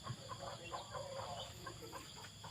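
A black bantam hen with her white chicks makes soft, repeated clucking close by, interspersed with faint peeping and farmyard ambience, with no speech.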